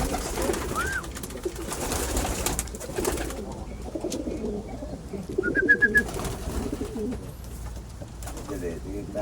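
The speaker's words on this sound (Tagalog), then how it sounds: "Ito mga kalapati mo, tol." Pigeons coo softly nearby amid a busy background of rustling and faint voices, with a brief higher bird call cutting through.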